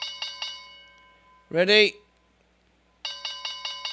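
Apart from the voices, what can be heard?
bell being rung repeatedly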